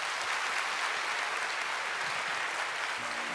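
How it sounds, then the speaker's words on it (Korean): A Korean church congregation applauds to bless three newly baptized children and their families, a soft, even wash of many hands clapping at a distance, steady throughout with no voices over it. "박수로 축복해 주시기 바랍니다"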